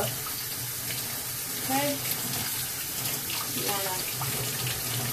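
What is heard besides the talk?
tap water running while washing a fish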